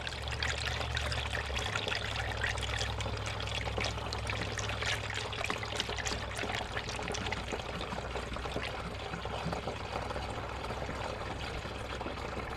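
Antifreeze pours and trickles steadily out of a Case 305 skid steer's cooling system during a water pump replacement, a continuous liquid splashing over a low engine-like hum.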